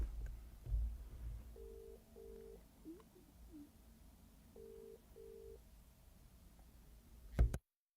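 A phone call rings out twice, each time as a pair of short electronic tones repeated at an even pace, faint and alone in a quiet room, ending with a sharp clunk.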